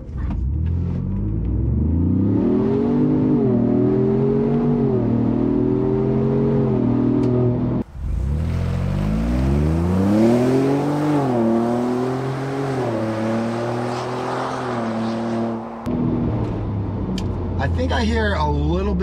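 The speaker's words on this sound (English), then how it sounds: "here's wide open throttle" A 2021 Ford Bronco fitted with a Magnaflow exhaust makes two loud wide-open-throttle pulls on a dyno, each a rising engine roar that climbs in pitch, cuts off sharply, and gives way to a brief lull before the next run.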